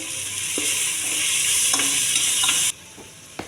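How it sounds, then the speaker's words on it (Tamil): Ginger garlic paste sautés in a hot pan with a steady sizzle and occasional scraping stirs, then the frying noise cuts off abruptly near the end. "இதுவும் பச்சை வாசனை போகிற அளவுக்கு வதக்கிக்கலாம்."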